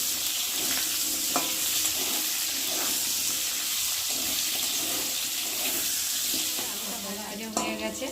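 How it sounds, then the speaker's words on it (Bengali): Potatoes frying together with a spice tempering and green chillies in a pan, a steady broad sizzle running throughout with occasional stirring scrapes, close and continuous. "আলুগুলো এখন আমি ভাজবো ওর মধ্যেই দিয়ে।"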